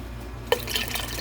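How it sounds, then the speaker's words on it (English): Water starts pouring into a canner over jars of whole figs, a soft trickle opening into a steady, fairly close splashing fill after a brief quiet start. "I'm fixing to fill this canner up with water over the jars."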